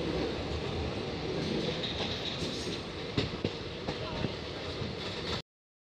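Passenger train on a long journey to Meghalaya, heard from inside as a loud, steady rumble and roar of running on the rails with a few faint clacks, ending abruptly in silence.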